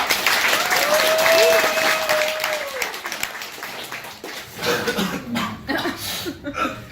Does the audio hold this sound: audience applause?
yes